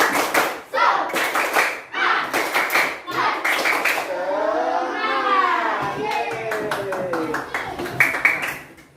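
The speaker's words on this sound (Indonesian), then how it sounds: "Sekarang kita melakukan tepuk semangat ya, semuanya berdiri." Schoolchildren in a classroom do tepuk semangat, a rhythmic spirit clap, striking crisp clusters of hand claps in a set pattern, with kids chanting between claps and a stretch of sing-song group voices in the middle.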